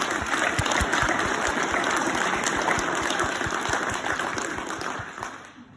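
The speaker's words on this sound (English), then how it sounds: "Give yourselves a round of applause." Audience applause after a call to applaud themselves, a dense steady wash of clapping with some sharper individual claps, holding loud before fading out at the end.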